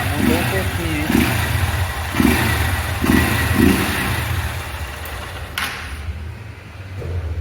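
Honda CG 160 Fan motorcycle fitted with a sport air filter, its engine running steadily up close with a few short revs rising above the idle.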